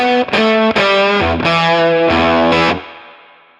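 Electric guitar played through a KingTone Octaland V2 octave effects pedal, a thick distorted tone with a low octave blended underneath, several sustained chords struck in a steady rhythm and ringing out at the end, loud and close with no talking.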